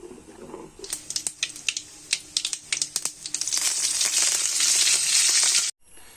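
Boiling curry with buttermilk poured in, stirred in a pot: a run of sharp clinks and scrapes from the spoon, then a loud, steady bubbling sizzle that cuts off abruptly.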